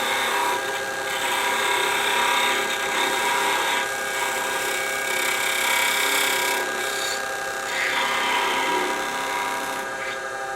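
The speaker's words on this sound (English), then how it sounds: "Take the spindle gouge, detail gouge, and cut this right out." A steady, loud whirring hum of a wood lathe with a scraping hiss of a spindle gouge cutting a wooden bell ornament, running continuously, swelling and easing slightly in waves.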